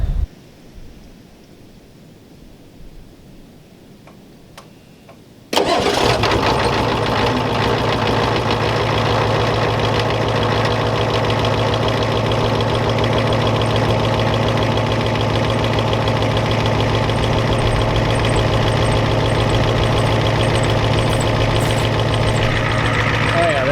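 An old Ford F-250/F-350 with a 7.3L diesel engine cranks and fires up after a quiet stretch, then settles into a loud, steady, rough idle with a constant knocking clatter that runs on to the end.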